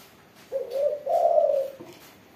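A perkutut zebra dove gives a single drawn-out coo in two rising phrases, close and clear against a quiet background.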